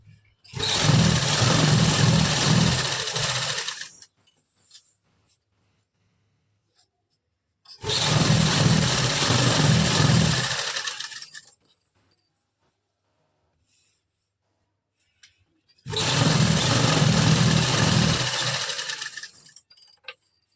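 Sewing machine stitching palazzo trousers in three separate bursts of a few seconds each, a fast rattling whir close by with quiet pauses between runs.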